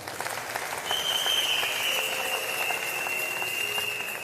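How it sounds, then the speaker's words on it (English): A church congregation claps together as an offering, a dense sustained burst of applause that swells after the first second and holds steady, with a faint tone running underneath. "Give Jesus a clap offering."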